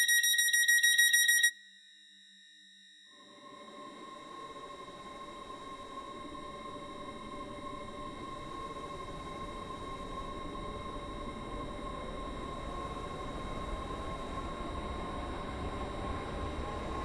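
Stepford Express train on the Stepford Country Railway game: a high multi-tone chime cuts off, then the carriage starts rolling with a steady low rumble and a rising motor whine that carries on evenly.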